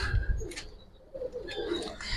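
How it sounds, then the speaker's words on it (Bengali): Low, muffled cooing from Giribaj pigeons comes in a few short bursts with brief pauses between them, close by and fairly quiet. "দুইটা কবুতর অনেক সুন্দর ভাই, অনেক।"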